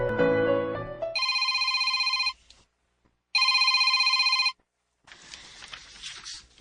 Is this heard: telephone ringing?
yes